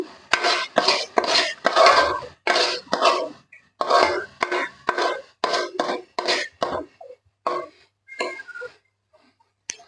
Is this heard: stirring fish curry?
yes